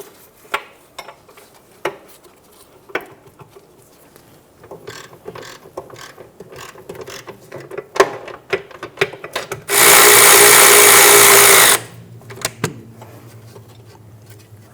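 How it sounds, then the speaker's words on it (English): Ratchet clicking on a 17mm socket while loosening the front control arm bolt on a 2010-2014 Subaru Outback, with irregular close mechanical clicks and knocks, then a loud two-second burst of a power tool. "Using a 17mm socket, we're going to remove the front control arm bolt"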